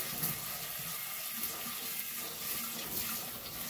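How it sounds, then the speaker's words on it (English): Cold water running steadily from a kitchen tap, a continuous close hiss and splash with a slight shift in flow partway through and no talking. "I'm taking cold water to use my spray."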